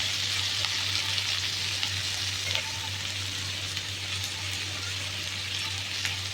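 Chopped okra, tomatoes and coriander sizzle steadily in a hot pan, a constant bright frying hiss with faint stirring scrapes and a low hum underneath, close and unbroken with no talk.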